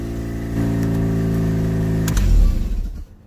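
A rotary engine from a Mazda RX-8, fitted in a 4-port to 6-port swap, fires for the first time: a steady cranking drone, then a loud catch and a brief rev before it cuts off, with no talking over it.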